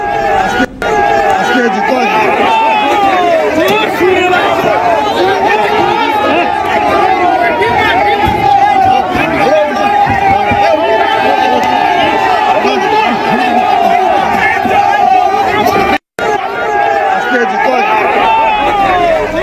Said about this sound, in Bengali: একেবারে চোর চোর স্লোগান।